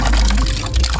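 Water runs steadily from a village water spout, a close, loud gushing and splashing stream that continues without pause.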